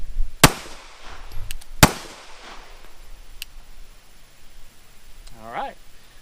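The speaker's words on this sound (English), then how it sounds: "At the command of fire, you will fire 2 rounds into your target." Two sharp, loud pistol shots crack out about a second and a half apart on a shooting range during a handgun qualification, followed by quieter background and a brief voice near the end.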